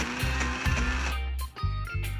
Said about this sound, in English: So to the blender, I'm going to blend this until it's smooth